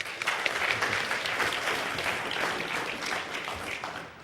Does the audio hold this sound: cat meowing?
no